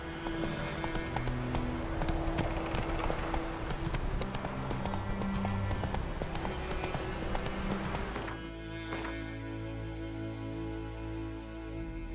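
The horse Roach galloping in The Witcher 3, a fast, steady drumming of hooves with game sounds around it, then easing to a quieter stretch near the end.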